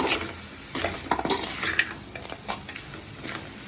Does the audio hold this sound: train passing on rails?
no